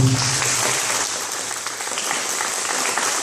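A church congregation applauds together in a steady, dense wash of clapping that fills the space for a few seconds without pause.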